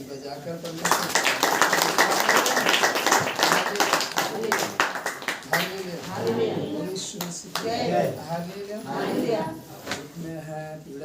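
Church congregation at a Saturday prayer meeting clapping hands in rhythm, dense and loud at first, then thinning into scattered claps, with singing and speaking voices over it.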